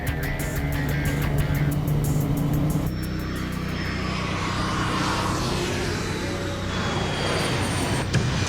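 A fixed-wing aircraft climbing after takeoff gives a steady, loud broadband engine roar that holds throughout, with a shift in tone partway and no voices.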